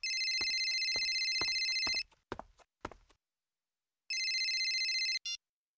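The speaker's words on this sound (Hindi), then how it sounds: "इस सुनील को फोन करके देखते हैं, शायद वो अपना फोन उठा ले।" A phone rings in two long electronic bursts separated by silence, with a few knocks and footsteps in between, loud and close, in a Hindi TV horror serial.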